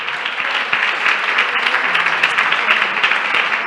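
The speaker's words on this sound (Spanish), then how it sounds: "Dale un aplauso al Señor" Church congregation applauding, a loud, dense wash of clapping that holds steady throughout.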